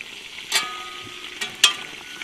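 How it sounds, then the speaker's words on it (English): Quiet sizzling of a lamb roast in a camp oven over a campfire in the bush, with a few sharp crackles and pops rising over a low hiss. "I can hear it sizzling away quite merrily there"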